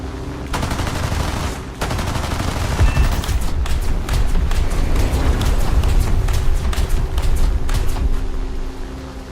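Enemy aircraft machine-gun fire in War Thunder: long, loud, rapid bursts of automatic shots over a steady engine drone, with a brief pause early on, no voices.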